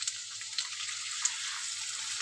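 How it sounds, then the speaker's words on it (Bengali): Potatoes frying in a pan, browning in hot oil: a steady, bright sizzle with a few faint pops and clinks, continuous and close, with a low hum underneath. "আলুটা ভালো করে আমি লাল লাল করে ভেজে নেব।"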